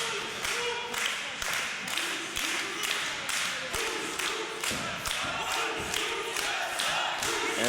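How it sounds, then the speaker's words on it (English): A wrestling crowd at a women's match between Tessa Blanchard and KC Spinelli chants and cheers in a steady, rhythmic pattern, with thuds and clapping mixed in. "you can hear the crowd here, Brad, split right down the middle."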